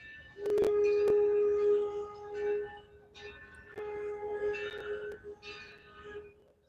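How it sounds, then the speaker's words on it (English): A train at Greenfield Village rumbles past at a distance with a sustained, tonal horn-like hum that swells and fades in several long stretches. "Train's coming around."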